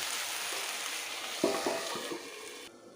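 Dhenki shak (fern greens) fry in a pan with a steady, even sizzle, broken briefly by a few soft stirring knocks.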